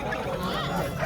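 Ducks at a poultry market honk and call in a short close burst, several nasal cries overlapping with the murmur of the market behind.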